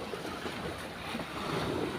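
Strong sea waves out on the open water: a steady, broad roar of surf and wind rushes continuously, close and fairly loud, with no voices.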